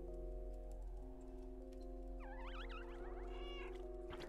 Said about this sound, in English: It said to meow, and I just did it without thinking.